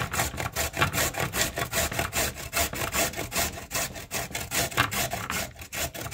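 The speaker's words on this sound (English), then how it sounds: "And then you're going to grate it." Vegetable for coleslaw scraped rapidly against a box grater, a loud, rhythmic rasping of quick even strokes repeating continuously up close.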